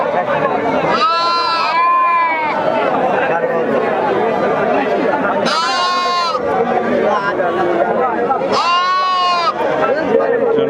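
Several sheep bleat in short wavering bursts, three clear calls rising above a steady crowd chatter and people talking nearby at a goat market.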